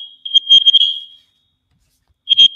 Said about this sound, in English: there is an alarm system they're testing